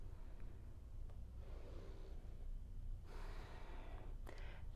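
A soft, breathy exhale during a twisting yoga movement in a moving meditation session, faint and close, heard as a couple of airy breath bursts over quiet room noise, with no talking.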